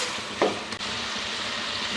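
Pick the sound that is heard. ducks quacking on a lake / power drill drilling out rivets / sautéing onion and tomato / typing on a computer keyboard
sautéing onion and tomato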